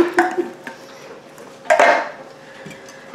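Baked macaroni and cheese mixture stirred in a dish, a spoon clinking and scraping in two short bursts with quieter gaps between, close and without speech.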